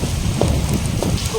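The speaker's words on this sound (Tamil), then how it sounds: "ஸோ இப்போது மழை பெய்ஞ்சிட்ருக்கு." Rain falling at night outside a porch where cooking is under way during a power cut, a steady close hiss of drops filling the clip without pause, with no talk over it.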